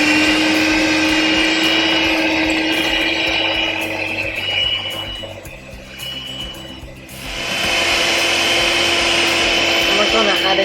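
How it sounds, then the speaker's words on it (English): Egg yolks and sugar are beaten in a bowl with a loud electric whisk, a steady high whine that dips midway and then returns at full strength. "we're going to whisk these together and add the rest of the ingredients in"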